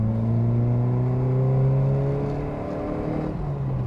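A 1980s Ford Fiesta XR2 engine revs while driving, a close, loud rising drone with strong harmonics that climbs in pitch, dips slightly, then eases off near the end.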